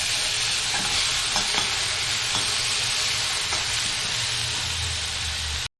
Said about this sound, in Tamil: வெங்காயம் பச்சை மிளகா நல்லா வதங்கிடுச்சு